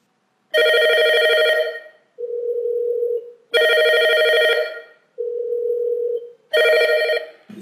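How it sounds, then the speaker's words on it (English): Telephone rings through a VoIP gateway to a GSM or PSTN line after dialing out from a softphone: three loud, close bursts of electronic ringing, each followed by a steady, lower ringback-like tone, in a repeating pattern. "You can see the telephone is ringing."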